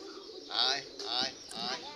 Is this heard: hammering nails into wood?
no